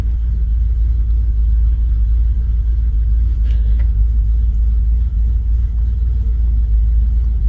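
Chevy C10 pickup truck engine idling, a loud, steady, deep low rumble close by with an even, unbroken tone throughout and no one talking.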